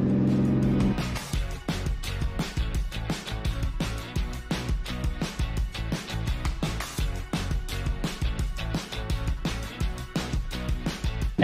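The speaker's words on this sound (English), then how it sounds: "Sometimes it sounds like it's all revs, but it's never seems to get stuck on the beach" A Toyota Land Cruiser 300 Series drives on beach sand, its engine revving hard and rising and falling in repeated surges, loud and close throughout with no talk.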